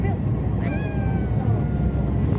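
A steady, low boat engine drone rumbles throughout, with thin high whistling tones gliding over it partway through, aboard a whale watch boat off Cape Ann.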